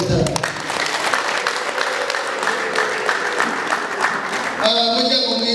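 A wedding celebration crowd applauds to welcome guests, a dense continuous clapping with possible ululation, while a voice speaks over it throughout.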